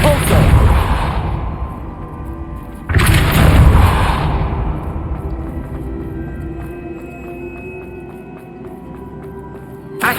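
Depulso spell effects in the Hogwarts Legacy video game hit in two loud booming blasts a few seconds apart, each decaying into a rumbling tail, followed by quieter hum and faint ticking.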